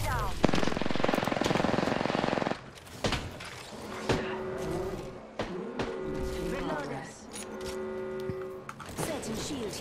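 Rapid automatic gunfire from an Apex Legends match bursts loud and dense in the opening seconds, then gives way to scattered shots, pings and game effects under quieter talk.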